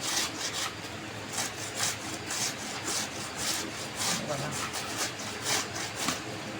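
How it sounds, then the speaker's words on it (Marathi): Mango being grated on a large grater for a Solapur-style sweet mango preserve gives a steady series of rhythmic, scraping rasps, close and fairly loud, with soft background noise. "मी ही अशा प्रकारे बघा सगळं किसून घेते आंबा सगळीकडून सगळ्या बाजूनी"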